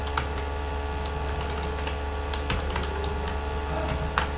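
Typing code on a computer keyboard, soft scattered key clicks over a steady background hum, close but quiet, with no talking.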